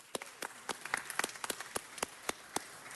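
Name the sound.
audience applause at city council meeting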